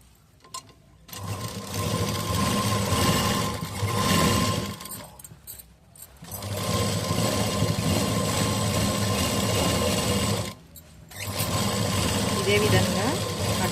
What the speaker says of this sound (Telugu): దీన్ని డబల్ స్టిచ్ వేసుకుందాం మళ్ళీ ఒకసారి